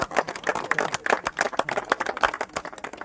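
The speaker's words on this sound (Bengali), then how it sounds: "হাততালি" Several people clap their hands in an uneven burst of applause, a quick run of sharp claps spread over a few seconds at a fishing competition gathering.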